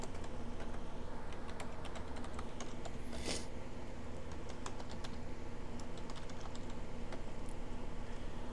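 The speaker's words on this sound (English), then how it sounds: "So you would type in, like, bundle install." Someone types on a computer keyboard in quick, uneven bursts of soft clicks. The clicks stay faint over a constant background hiss.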